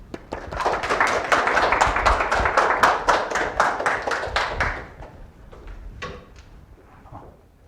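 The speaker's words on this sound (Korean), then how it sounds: "우리 배한용 교수님을 큰 박수로 모셔서 강연을 듣도록 하겠습니다" A lecture-hall audience of students claps together to welcome a university chemistry professor, a dense burst of many hands that builds, holds, then thins to scattered final claps.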